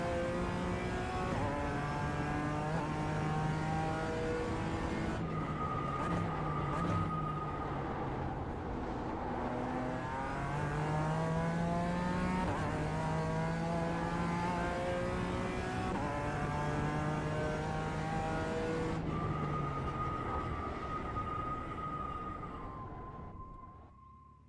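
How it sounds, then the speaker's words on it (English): A GT4 race car in the iRacing video game revs hard, its engine note rising and falling through repeated gear changes and downshifts, loud and continuous throughout, then cuts off at the end. "I feel like the GT4 downshifts so much slower."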